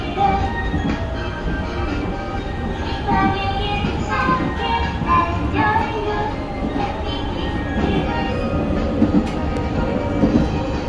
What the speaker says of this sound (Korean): 옆쪽에는 검수를 마친 열차가 시운전을 하는 선로가 있네요